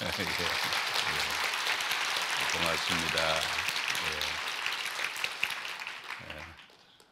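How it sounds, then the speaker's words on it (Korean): A church congregation applauds throughout a worship gathering, steady broadband clapping that fades near the end, with someone speaking over it at intervals. "박수 쳐야 되겠죠?"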